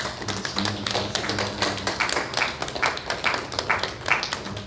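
A church congregation applauds in thanks for two ministers during a Korean praise service, a steady roomful of claps with rhythmic peaks, with no talking.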